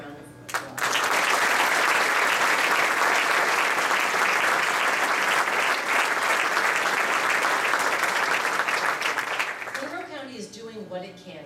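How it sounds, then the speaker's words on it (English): Sustained audience applause fills a county State of the County address hall, starting abruptly and holding loud and dense for about nine seconds before fading as a voice begins speaking. "let's thank them with a round of applause."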